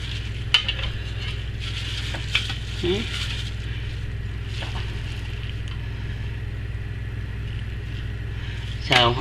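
Excess soap batter is scooped off a filled soap mold with a utensil, making a few faint, brief scraping strokes at close range over a steady low hum.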